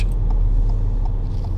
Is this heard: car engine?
yes